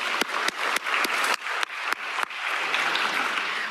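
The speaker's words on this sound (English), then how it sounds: "let's have one more round of applause for all of our presenters today" Scattered, uneven clapping from a conference audience thanking the presenters, a few sharp individual claps standing out at first before a softer, thinner patter of applause continues to the end.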